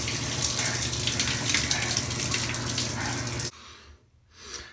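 Shower water runs steadily in a steady wet rush, close and fairly loud, then cuts off abruptly, leaving quiet with a brief soft swish near the end.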